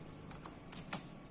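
Keystrokes on a computer keyboard as a file name is typed into a save dialog, a few quiet, irregular clicks close by with no talking.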